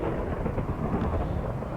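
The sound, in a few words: thunderstorm in Minecraft video game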